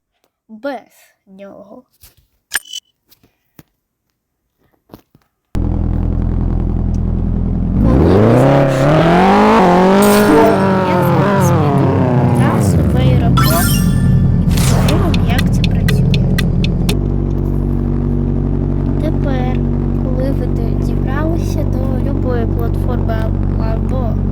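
Video game cars driving: after a few faint clicks and a stretch of near silence, a loud engine sound starts abruptly, revving up and down with a rising and falling whine, then settles into a steady hum.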